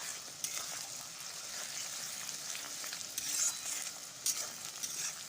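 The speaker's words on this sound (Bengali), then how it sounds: "ডিমটা দিয়ে ভেজে নেব চাউমিনের মধ্যে দিয়ে দেবো" An egg fries in a pan with chowmein, seasoned with salt and raw turmeric powder, giving a steady close sizzle with occasional stirring scrapes and no voices.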